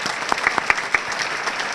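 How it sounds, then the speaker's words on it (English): An awards-dinner audience at the Somerville, MA Chamber of Commerce applauds this year's awardees, a steady wash of many hands clapping at close range with a few sharper claps standing out. "So let's have one more round of applause for this year's awardees."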